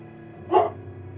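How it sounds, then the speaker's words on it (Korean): A single dog bark sounds in the distance over a steady low hum, used as a sound effect in a Korean horror radio drama. "저 멀리서 개가 짖는 소리에"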